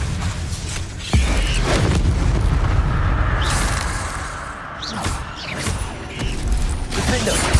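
Confringo spell blasts in the Hogwarts Legacy video game: a loud booming burst with crashing, creaking debris, followed by sustained rumbling combat noise and further sharp impacts throughout.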